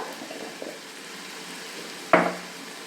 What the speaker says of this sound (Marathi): तर इथे आता हे छान परतून घेणार आहोत आपण कांदा